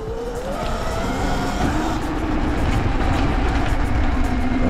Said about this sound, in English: It must be a motorbike.